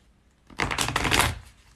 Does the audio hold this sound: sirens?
no